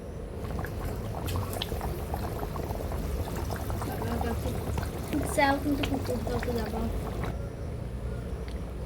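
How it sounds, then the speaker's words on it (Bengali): Water pours into a pan of browned, cooked chicken on the stove, a steady bubbling liquid rush that sizzles and gurgles throughout, loud and close, with one brief swirling surge near the middle. "মাংসটা কষানো হয়ে গেছে এখন দিয়ে দেবো জল"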